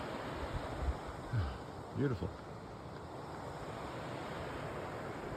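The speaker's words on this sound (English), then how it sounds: "There's these lovely rapids here." River rapids on the Lady Evelyn River in Temagami rush in a steady, broadband wash, with a few brief voice sounds over the top.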